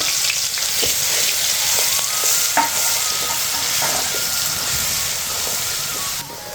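Chilli paste sautéing in a pan with mustard seeds and curry leaves gives a steady, loud sizzling hiss throughout, broken by scattered scraping clicks of stirring and a brief pause near the end.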